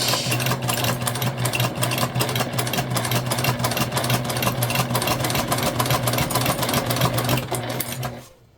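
A sewing machine backstitches a mini bag (the Aida Bag), running in a steady, close, continuous mechanical whir with a quick stitching rhythm that winds down at the very end.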